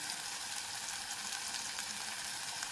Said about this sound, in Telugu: టమాటా వేగిపోతుంది.